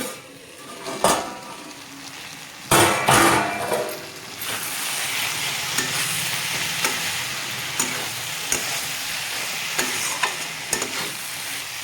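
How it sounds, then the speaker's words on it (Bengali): Eggplant frying with spices in a vegetarian dish, a steady sizzle with repeated scraping stirs and clinks of a utensil against the pan, close and fairly loud with no talking. "মশলার সাথে বেগুনের খুব ভালোভাবে ভাজা ভাজা হয়ে গেছে"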